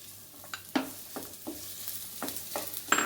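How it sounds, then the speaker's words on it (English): Onions hit one tablespoon of hot oil in a pan and sizzle steadily, punctuated by several sharp clicks and scrapes of stirring close by. "In the pan, I'm going to just add 1 tablespoon of oil. Add my onions."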